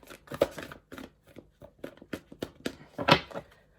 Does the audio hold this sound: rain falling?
no